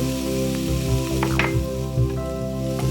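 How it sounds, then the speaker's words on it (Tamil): Snake gourd with grated coconut and turmeric frying in a pan gives a steady, close sizzle with a few soft stirring knocks, heard over a sustained tonal hum. "புடலங்காயோட சேர்த்து வறுப்போம்"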